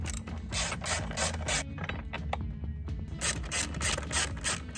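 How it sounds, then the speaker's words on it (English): A ratchet with a 10 mm deep socket removing a nut in the engine bay of a Dodge Hornet 2.0L, rapid clicking pawl bursts in repeated close strokes with short pauses between. "Now we're gonna take our deep socket 10 mil and remove this nut and then the stud underneath it."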